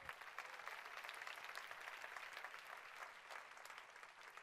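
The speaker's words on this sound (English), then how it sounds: "I think that deserves a big round of applause for Nu Skin" An audience breaks into applause at a corporate presentation for Nu Skin, a dense, steady patter of many hands clapping together at moderate distance, holding an even level throughout.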